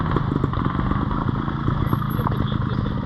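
Trials motorcycle riding through a marked section, a steady mid-distance engine drone with small throttle pulses, continuous throughout.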